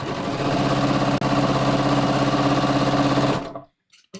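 A sewing machine stitches a jeans waistband in one continuous, steady run of rapid needle strokes, then stops abruptly, leaving near silence with a few faint clicks.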